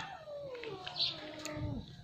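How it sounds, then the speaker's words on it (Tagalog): A cat lets out a drawn-out, wavering meow that slides downward in pitch, faint and somewhat distant, with quiet background noise. "May pusa ng kapitbahay."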